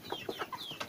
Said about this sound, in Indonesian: ayam Arab.